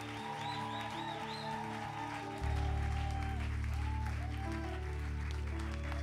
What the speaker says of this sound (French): Est-ce qu'on peut applaudir encore plus fort que ça? Une ovation à faire exploser le plafond.